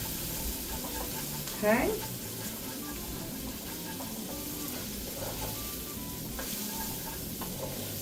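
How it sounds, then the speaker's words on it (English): Vegetables with ginger saute in a pan for a chili lime shrimp ramen bowl, a soft, even sizzle heard quietly throughout, with a brief spoken word near the start. "So now we're just gonna saute those vegetables."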